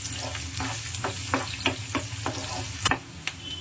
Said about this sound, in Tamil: இது கூடவே கொஞ்சம் ஃப்ரெஷ்ஷான கறிவேப்பிலை நல்லா இப்போ ஆனியன் ரோஸ்ட் ஆகட்டும்.